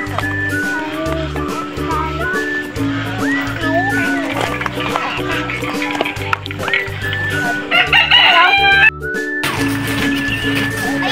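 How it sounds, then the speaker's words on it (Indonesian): Chickens clucking and squawking at a mini zoo on a farm, amid a busy, noisy background with steady rhythmic low thumps and overlapping voices. "Tengok ayam ni. Tengok muka ayam dia ni."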